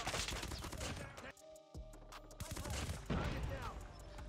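An ICR-LMG light machine gun in Call of Duty Mobile fires rapid, dense bursts, pausing briefly midway before opening up again, with game effects mixed underneath.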